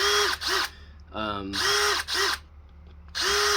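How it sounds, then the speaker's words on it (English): A power drill whirs in short bursts, revving up and stopping several times, close by, drilling a hole through a kydex knife sheath, with a brief tonal squeal between runs. "drill a little hole through both sides of the sheath down here towards the tip of your knife"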